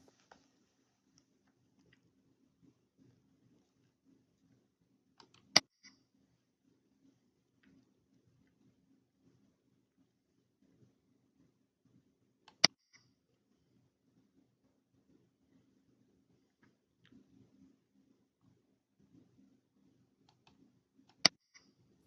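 A computer mouse clicks while bank withdrawals are marked in accounting software, giving three sharp, isolated clicks spaced several seconds apart over near silence.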